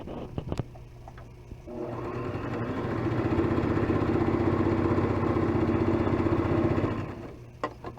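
A domestic sewing machine runs a wide stitch along a hem edge while sewing a Barbie doll dress, a steady close motor whir with rapid needle clatter that builds up and carries on for several seconds before stopping, a few clicks either side.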